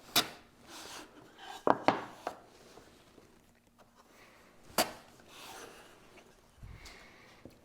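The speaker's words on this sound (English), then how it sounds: "Flip it over and cut one slice off of each corner." A blade cuts a slice off the corner of a wooden top, producing a few sharp scraping chops and rubs, with short quiet gaps between them, close and moderately loud in a quiet workshop.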